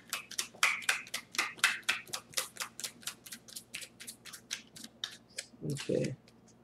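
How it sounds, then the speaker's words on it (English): Rapid, crisp snapping of tarot cards being shuffled, about twenty quick flicks in an even rhythm, ending with a soft thump. "This is the last shuffle too, see what pops out."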